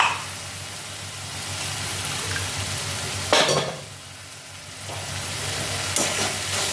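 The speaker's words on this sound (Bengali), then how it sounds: "এখন এটা ভালো করে কষিয়ে নিতে হবে মশলা" Spice masala for an egg curry (dimer dalna) sautéing in a pan: a steady broadband sizzle with a few sharp scraping stirs, close and fairly loud, with no talking.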